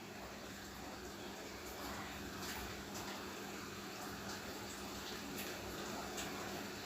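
Steady rain falling outdoors at a home with an outdoor clay stove, a constant soft hiss and patter with faint scattered drips, even and unbroken throughout.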